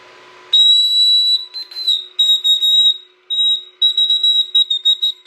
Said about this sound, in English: look at this little whistle that it printed. It's like a tiny little whistle. You just blow in this.